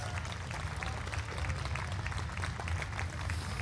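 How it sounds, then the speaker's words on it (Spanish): Carnival spectators clapping at a night corso parade, a broad, continuous wash of applause from a large crowd with steady low rumble underneath, sustained and even throughout. "Se merecen otro aplauso. Fuerte los aplausos."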